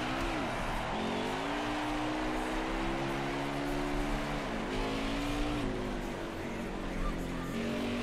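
Race car in a racing video game doing donuts and burnouts, engine droning and revving with wavering pitch rises and dips, faint tire squeal, moderately loud and steady.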